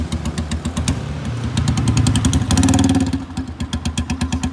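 A Honda CG 125 motorcycle with a damaged, split silencer revs nearby, its loud uneven thumping exhaust rising to a harsh burst of throttle and then dropping back to a lumpy idle.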